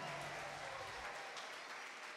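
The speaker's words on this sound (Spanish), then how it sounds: "Dale ese fuerte aplauso a él." An audience at a live vallenato concert claps and cheers in a dense, continuous burst of applause that fades slightly toward the end.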